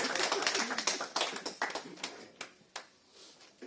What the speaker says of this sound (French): Donc on applaudit pour l'inviter à l'encourager.